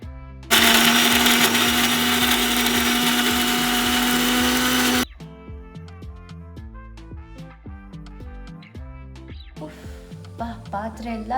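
A kitchen mixer grinder blends ingredients for sambar with a loud, steady whirring roar for about four and a half seconds, then stops abruptly. Voices and other kitchen sounds follow.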